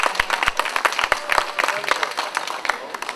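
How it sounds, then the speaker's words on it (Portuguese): A crowd at an evening of fado music during the Feira dos Moços fair in Custóias, Portugal, claps together in a steady, dense burst of applause, with a voice talking over the clapping throughout. "Um forte aplauso para eles todos"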